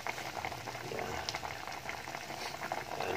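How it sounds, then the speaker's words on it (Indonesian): A pot of pindang fish with Javanese tamarind boils on the stove, giving a continuous close bubbling and gurgling with small pops, fairly soft and steady throughout. "Ini baru mendidih ya."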